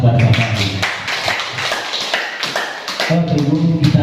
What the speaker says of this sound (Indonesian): Sekali lagi mari kita beri tepuk tangan kepada Bapak.